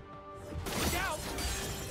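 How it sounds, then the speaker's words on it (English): A turret being destroyed in League of Legends: a sudden loud shattering crash breaks in midway, followed by crumbling debris layered with game sound effects and background music. "Red Team's turret has been destroyed."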